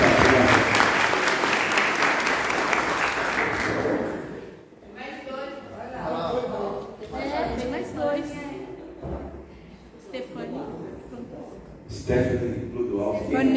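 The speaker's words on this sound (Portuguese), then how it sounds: "vamos saudar essas pessoas com uma salva de palmas" Congregation applauding at a Sunday church service, a dense burst of clapping for the first four seconds, then the room quiets as someone talks over scattered, fading claps and a brief swell near the end.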